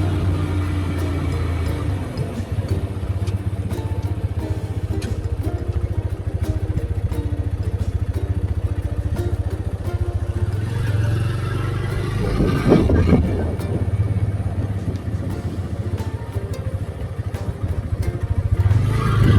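Steady mid-range engine drone of a motorbike ridden on a mountain road during a long-distance trip from Murshidabad to Sikkim, continuous and close throughout with a brief clattering bump midway, no talk.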